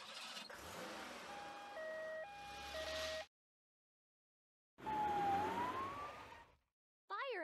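An ambulance siren sounds in two bursts, first a stepped two-tone wail, then after a silent gap a gliding tone, loud and close with no talk.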